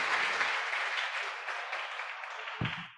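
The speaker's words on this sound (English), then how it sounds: "please give applause to Professor Fraban." Sustained applause from a lecture audience, a steady wash of many hands clapping at moderate volume, slowly tapering off.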